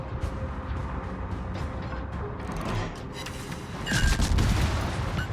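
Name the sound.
battleship guns firing HE shells in World of Warships video game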